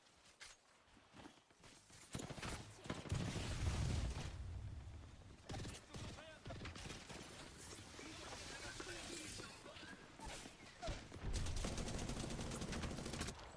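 Bursts of rapid gunfire from the video game Apex Legends mix with footsteps and clattering mechanisms, the shots coming in irregular clusters at moderate loudness while a player talks.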